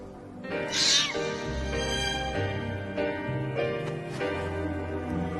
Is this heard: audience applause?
no